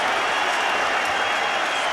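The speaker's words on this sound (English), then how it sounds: "They're on their feet in Atlantic City as Arturo Gatti has brought the crowd to life again." A boxing arena crowd in Atlantic City on its feet for Arturo Gatti, a dense, continuous roar of cheering and clapping without letup.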